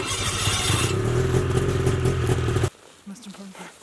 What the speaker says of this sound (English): we're gonna get the snow machine fired up